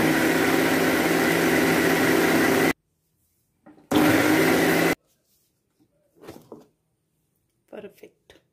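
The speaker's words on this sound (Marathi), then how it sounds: "पाणी घालायचं मिक्सरला फिरवायचं" A kitchen mixer grinder blends chutney for medu vada, whirring loudly for about three seconds, stopping, then running again for another second; someone talks quietly during the pauses.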